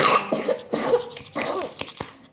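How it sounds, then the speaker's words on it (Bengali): A person coughing during a live stream: several rough, close coughs in quick succession, loud and harsh, with short gaps between them. "কাশি হয়ে"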